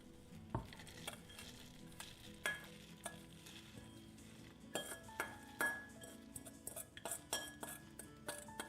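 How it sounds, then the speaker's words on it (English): An almond and sugar mixture is stirred in a pot, with a close spoon scraping and clinking against the metal over a soft sizzle, the knocks coming faster toward the end. "I mix it very well. I want the sugar to dissolve and I want it to boil a little bit."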